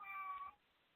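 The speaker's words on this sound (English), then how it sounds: "as my cat cries in the background." A cat cries with a single drawn-out, wavering meow, faint and somewhat distant, fading away before a quiet room tone with no talk.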